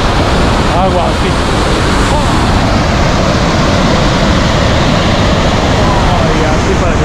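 Loud, steady roar of rushing water at a waterfall in Parque La Llovizna, Ciudad Guayana, Venezuela, dense and unbroken throughout, like a powerful cascade close by.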